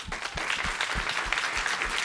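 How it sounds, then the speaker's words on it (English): Steady applause from an audience at an evening community round-table event, dense and continuous clapping throughout with a few sharper claps standing out, fairly close and full. "Let me give them all a round of applause."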